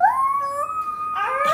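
A small child imitates an elephant with a voice that comes out like a wolf howl, a rising then long sustained wail that breaks into a rougher yelp at the end.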